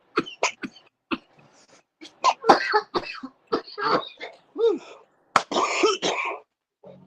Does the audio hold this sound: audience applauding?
no